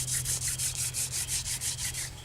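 Wooden hand drill spun between the palms on a fireboard to grind out friction sawdust for a survival fire, a rhythmic series of about a dozen close, raspy rubbing strokes, each rising and falling in quick succession.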